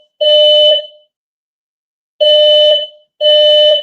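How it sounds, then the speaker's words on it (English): An indoor fire alarm sounding in loud, shrill electronic bursts: one long blast, a two-second pause, then two more blasts in quick succession, with no voices. "the fire alarm's going off."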